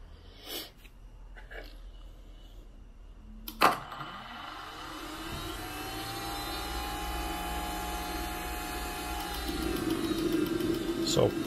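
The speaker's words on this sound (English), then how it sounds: "fuel pump has engaged, we've got ignition, stage one" A Kingtech 210 G4 micro turbine runs through an automatic restart: sharp clicks and a pop as the fuel pump engages and ignition lights, then a rising whine that builds into a steady, loud roar close by.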